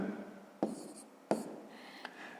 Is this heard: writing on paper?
yes